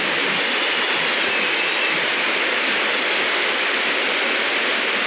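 A loud, unbroken rushing roar of fast-moving floodwater fills the scene, steady and dense with no pauses or other sounds.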